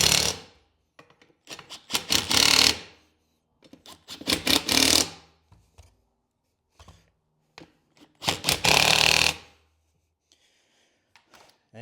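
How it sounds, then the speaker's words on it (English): A pneumatic impact gun tightens the wheel lug bolts on a GMC prerunner truck mounting 40-inch BF Goodrich tires, in several close, loud rattling bursts of a second or two each, separated by pauses. "then I throw the impact gun on them"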